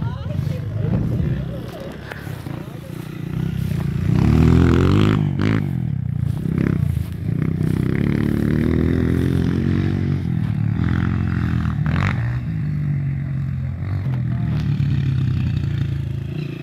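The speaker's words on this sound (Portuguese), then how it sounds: "o Cícero agora vai testar a moto" A Honda CRF 450R motocross motorcycle ridden on a dirt track, its engine revving and droning loudly with rising pitch sweeps while people talk over it.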